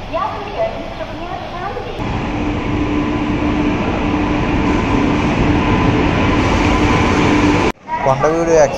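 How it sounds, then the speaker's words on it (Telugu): The Kondaveedu Express, running Machilipatnam to Yesvantpur, rumbles steadily at Vijayawada railway station, a loud continuous drone of rolling carriages, with people talking near the start and again at the end. "Kondaveedu express Machilipatnam to Yesvantpur."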